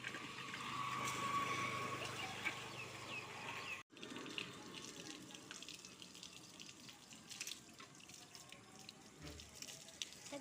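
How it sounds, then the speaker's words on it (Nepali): Water runs and splashes steadily while a bicycle is washed with shampoo water, a continuous close hiss with a brief cutoff partway, then quieter sloshing and drips. "साथीहरु अब चाहिँ स्याम्पू हालेको पानीले धुनु"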